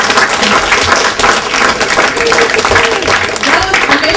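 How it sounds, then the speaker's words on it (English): An audience at a conference session on international movements breaks into sustained, loud applause for a speaker, a dense wash of clapping from many hands that continues steadily throughout with voices mixed underneath. "Give her a round of applause."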